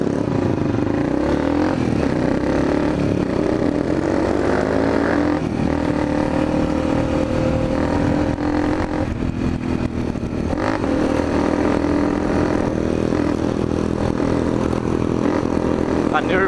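Motorcycle engine held at top speed, a steady loud droning roar that continues without break, with someone talking over it.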